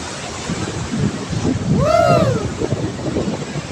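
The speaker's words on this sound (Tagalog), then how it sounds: "dito tayo ngayon sa gilid ng dagat yan tingnan nyo yung alon ang laki oh" Big ocean waves wash against the seashore in a steady, loud roar with gusty wind buffeting the microphone, and a brief shout rises over the surf.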